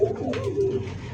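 A newly adult pigeon gives a brief, soft, low coo close by, barely more than a second of murmuring call.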